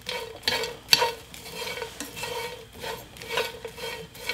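Dried anchovies being stir-fried in a pan, with repeated scraping strokes of a utensil across the pan over a soft, steady sizzle, close and fairly loud, no talking.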